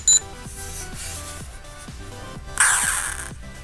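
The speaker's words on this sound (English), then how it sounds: "I coded him to beep," A Makeblock Codey Rocky toy coding robot gives a short electronic beep, then a run of quick falling blips, ending in a louder burst of electronic noise.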